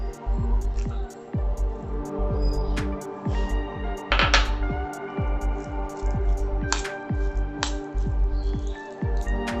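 Onion and chili are squished by hand into a half-ground lentil batter, giving a steady run of wet, sticky squelches and soft slaps close up, with no talk over it.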